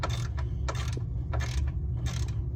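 Socket wrench ratcheting as a sway bar bracket bolt is broken loose on a 2012 Kia Optima, with four short bursts of metallic clicking over a steady low mechanical hum in a garage.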